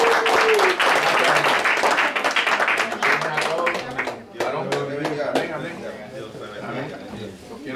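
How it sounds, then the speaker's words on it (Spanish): During a Bible seminar for teachers, a small audience claps in a loose, uneven burst that thins into scattered individual claps. Voices are heard alongside the clapping. "Un aplauso."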